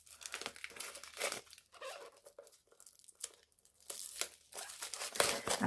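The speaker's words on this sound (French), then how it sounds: "j'ai des ongles magiques pour ouvrir le cellophane" Cellophane wrap is peeled off a tarot deck with the fingernails. Up close it makes quiet, irregular crinkles and tearing rustles in short bursts, with brief pauses between them.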